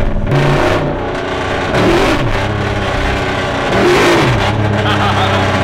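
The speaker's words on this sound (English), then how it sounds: "That was a partial throttle." An LS2 V8-swapped BMW E46 with a fresh tune accelerates at partial throttle, its loud, close engine note climbing in pitch and surging twice, around two and four seconds in.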